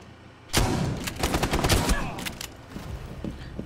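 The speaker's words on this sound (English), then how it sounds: "Oh my god, that shotgun." Video game shotgun fire comes as a sudden loud blast followed by a rapid cluster of heavy shots that tail off, close and dominant, with no speech.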